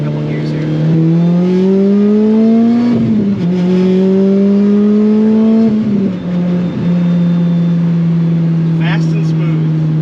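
Supercharged Lotus Exige 240 S engine revs hard up through a couple of gear changes, the pitch climbing, dropping at each shift and rising again, loud and close with a voice over it.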